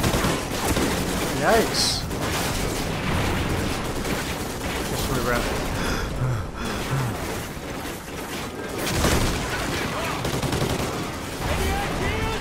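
Sustained gunfire in Call of Duty: Ghosts rattles in dense overlapping bursts throughout, loud and close, with a voice speaking briefly over it.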